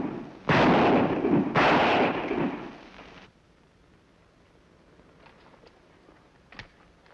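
Two loud, booming gunshots from a sheriff's revolver loaded with blanks ring out in an old Western TV episode, each with a long echoing tail, followed by quieter faint clicks and a small knock.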